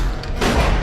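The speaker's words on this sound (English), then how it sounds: "He began shooting wildly." A burst of loud, rapid gunfire with booming, thudding shots, growing heavier midway through the short burst.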